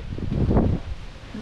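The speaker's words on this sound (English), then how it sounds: "Super windy. It's not going to be good for the sound on the camera." Wind buffeting a camera microphone outdoors on a sunny, very windy day during a walk, a short rumbling gust that swells and fades over a second and a half.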